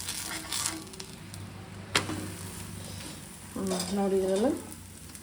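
Bele holige, a lentil-stuffed flatbread, frying in oil on a pan after being flipped, giving a steady soft sizzle with a sharp click partway through and a brief voice near the end.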